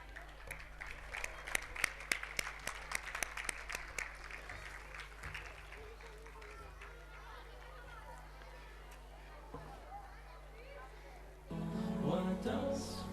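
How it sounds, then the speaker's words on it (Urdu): Applause welcoming guests at a school annual function, a burst of scattered hand clapping that fades into room murmur, followed near the end by someone talking over a microphone. "مہمانوں کا استقبال تالیوں میں ہوتا ہے"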